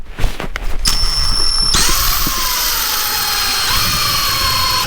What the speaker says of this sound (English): Spend an hour or two at the drill,